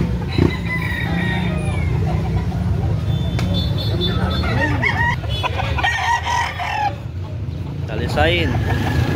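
Roosters crowing at a market in Carbon, Cebu City, where birds are being sold. Several crows and clucks rise one after another over a busy background, with people talking throughout.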